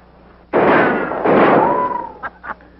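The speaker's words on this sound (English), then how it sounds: "Tell him to keep shooting, Abner." Gunfire in a 1942 film, a pair of loud, close blasts with short echoing tails followed by two smaller pops, with a voice briefly audible.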